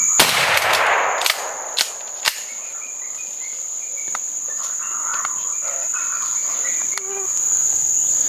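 A gunshot rings out during a hunt, with a few sharp cracks early on, set against loud continuous cricket and insect chirring outdoors.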